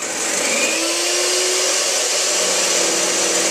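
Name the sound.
whisking mixture while adding Splenda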